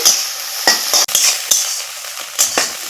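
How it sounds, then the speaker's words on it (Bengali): Egg frying in a little added oil in a wok: a bright sizzle with a handful of metallic spatula scrapes and clinks against the pan, close and fairly loud, and no talking. "তেল দিয়ে আর একটু ডিমটা ভেজে নিচ্ছি"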